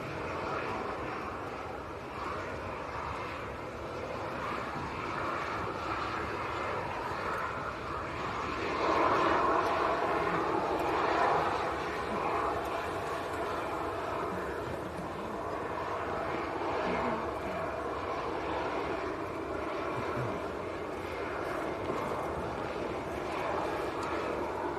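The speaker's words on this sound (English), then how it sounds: "That is EasyJet, which has just come in from Lisbon." An EasyJet airliner arriving from Lisbon at Manchester airport produces a steady, distant jet-engine roar that swells briefly midway and then holds at a broad, even rumble, with no talking.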